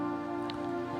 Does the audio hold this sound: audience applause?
no